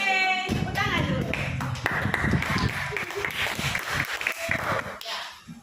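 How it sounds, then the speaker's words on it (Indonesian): A class of students applauds together, steady clapping filling the room for several seconds with a teacher's voice and children's chatter mixed in, fading at the end. "Oke, tepuk tangan dulu."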